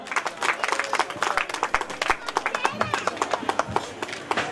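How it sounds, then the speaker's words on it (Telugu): A church congregation claps steadily to welcome visiting pastors, dense rhythmic hand claps from many people filling the room while a voice speaks over them. "చప్పట్లు కొడదాం"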